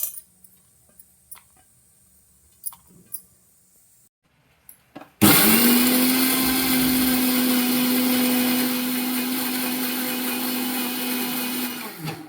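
After a few faint clicks and taps, a mixer grinder grinding roasted ingredients starts abruptly and runs as a loud, steady motor whine for about seven seconds before cutting off.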